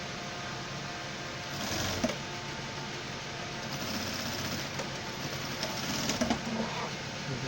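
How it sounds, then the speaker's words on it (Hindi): A sewing machine stitches a formal pant leg with a soft, steady mechanical whir, rising in two short bursts of faster running, quiet and close. "सिलाई इसलिए शुरू लगी ताकि आप लोग को प्रॉपर समझ में आए ना"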